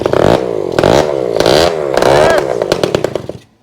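A vintage two-stroke motorcycle engine sputters to life after being kick-started, then revs up and down in ragged, loud bursts before cutting out abruptly near the end.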